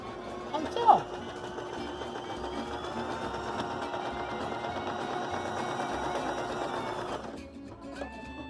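A Baby Lock Zest sewing machine stitches fabric, running in a steady, even mechanical whir for several seconds after a brief click at the start, then stopping abruptly, with faint thumps afterward.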